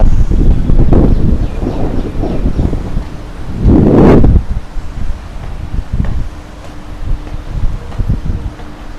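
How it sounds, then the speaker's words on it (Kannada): Strong wind blows through a large abandoned multi-storey bungalow in Padur, Chennai, surging in loud, rough gusts that peak midway and then ease into softer rustling. "ಗಾಳಿ ಎಲ್ಲ ಕೇಳಿಸ್ತೈತಲ್ಲ, ಗಾಳಿ ಬೀಸ್ತೈತೆ, ತುಂಬ ಗಾಳಿ ಬೀಸ್ತೈತೆ"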